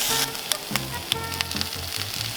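Green onions stir-fry on high heat at a riverside car-camping site in Gapyeong, giving a loud, steady sizzle broken by a few sharp clinks of the utensil against the pan.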